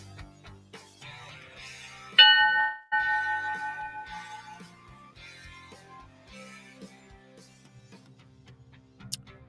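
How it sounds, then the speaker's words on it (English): A boxing ring bell sounds for round two: a bright metallic clang struck once with a loud onset and a ringing decay over about a second, followed by quiet background noise. "That was the bell for round 2."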